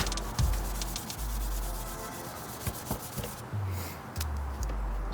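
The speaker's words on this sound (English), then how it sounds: "So while it's wet, just go ahead and sand it down." A small hand sander rubs over wet motorcycle paint in repeated back-and-forth strokes, a close, steady scraping hiss that pauses briefly between passes.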